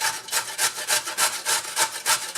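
A carrot shredded on a grater for spring egg rolls, a fast steady rhythm of rasping strokes, loud and close with no talking.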